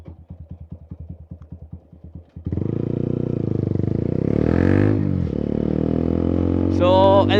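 A loud Akrapovic muffler on an Apache 200 4V motorcycle starts with a rapid, even idle putter up close, then swells into a sustained, throaty rev that climbs and holds, with a brief dip before surging again.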